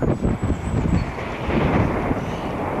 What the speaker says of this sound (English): You're going to get wind noise because we're a long way up